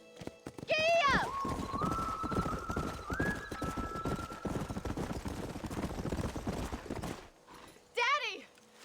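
A horse in Red Dead Redemption gallops with rapid, steady hoofbeats, bracketed by two loud whinnies at the start and the end, while someone talks over the running.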